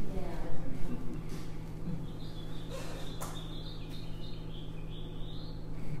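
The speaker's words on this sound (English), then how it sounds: "the house finches often at the end do have a raspberry note, actually" A house finch sings outdoors in Hulls Gulch, Boise, Idaho, a rambling string of faint distant warbles ending in a buzzy raspberry note, set over a steady low hum.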